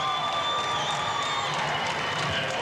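A crowd at a Mount Vernon Rams high school basketball game in 1998-99 cheers and shouts steadily in a gym. The noise is dense and continuous, with whoops rising out of the din.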